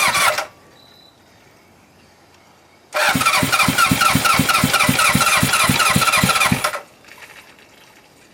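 A barn-find Honda Hondamatic 750 motorcycle engine cranks briefly, then after a pause fires up and runs with a steady, loud pulsing idle for several seconds before cutting off, close up.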